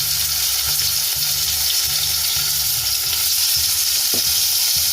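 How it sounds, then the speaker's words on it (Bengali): Hilsa fish pieces frying in hot oil, a loud continuous sizzle close by with low rhythmic knocks and scrapes of stirring running through it, with no talk. "ইলিশ মাছ একটা একটা করে দিয়ে দিচ্ছি"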